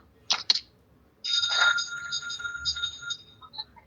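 A telephone rings inside an employer's home in Hong Kong. A couple of short clicks come first, then a sustained electronic ringing tone lasts about two seconds and ends with a faint chirp, with no talking over it.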